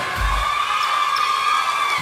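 A large crowd at a Thai fan meetup cheers and screams continuously for colour teams, a sustained high-pitched roar of many voices, with no pauses.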